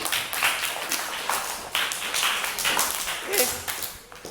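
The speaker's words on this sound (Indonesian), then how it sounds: "Tepuk tangan." Students in a classroom clap for a classmate during a group guidance discussion, a series of scattered, fairly close hand claps spread over several seconds, uneven rather than one unified burst of applause.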